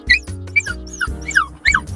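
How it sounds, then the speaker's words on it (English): A dog whimpers and yips in a car near a dog park: repeated high, whiny cries in short bursts, close and fairly loud, with no talking. "He's crying because he sees the park."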